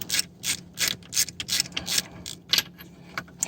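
A bolt is ratcheted by hand into the driveshaft flange of an articulated dump truck during U-joint assembly: a quick series of close, crisp ratchet clicks in short bursts, with no talking.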